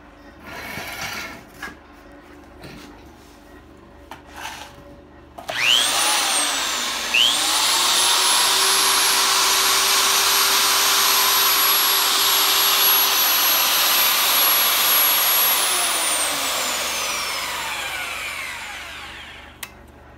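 A Harbor Freight bead roller powered by a motor on a foot pedal winds up with a rising whine, runs steadily loud for about ten seconds, then spins down, after a few faint knocks at the start.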